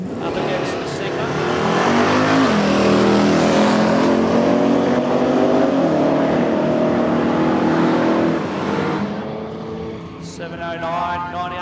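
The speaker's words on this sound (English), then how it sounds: "Grant Carpenter now in the Model A Roadster. Up against the Sigma" Drag racing cars, including a Model A Roadster hot rod facing a Sigma, accelerate hard off the line with a loud, sustained roar and rising engine pitch that fades after about nine seconds, with an announcer talking over it.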